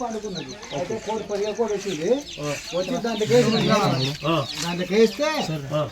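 A hen clucks repeatedly near a house where a cobra has been swallowing eggs; the bird's rhythmic calls run close and loud, mixed with people talking.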